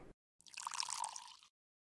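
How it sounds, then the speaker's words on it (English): Wine poured into a glass, a short quiet liquid trickle and splash lasting about a second, alone with no talk. "I'm going to pour myself another glass."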